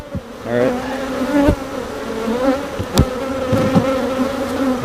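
Honeybees buzz loudly and close around a beehive, a dense, steady hum with a few individual bees zipping past.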